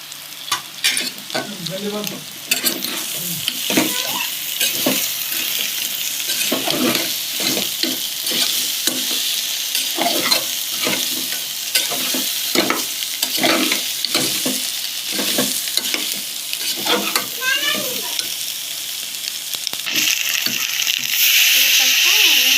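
Stuffed brinjals with leftover coconut powder are stirred and fried in a pan. The spoon scrapes steadily in repeated strokes over a continuous close sizzle.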